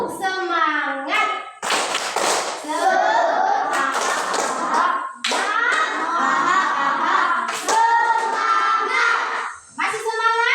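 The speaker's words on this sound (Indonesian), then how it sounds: "Tepuk semangat." Schoolchildren in a classroom repeat the tepuk semangat clapping chant, sharp claps alternating with loud chanted syllables in unison, a few short breaks between phrases.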